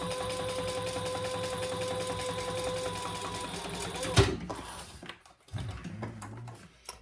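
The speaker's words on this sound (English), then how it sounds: "And then top stitch on the flap, on the side panel." A sewing machine top-stitches the flap and side panel of a handmade waist pack, humming in a steady, rapid stitching rhythm for about four seconds before stopping with a clunk, followed by quiet handling noises.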